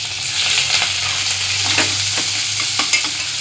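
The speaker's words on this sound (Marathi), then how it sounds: "कांदा लाल झाला की त्याच्यामध्ये हलवत राहायचं" Chopped onion frying in a pan for Konkani-style pithla, a steady loud sizzle with repeated scraping stirs of a spoon cutting through it, no voices.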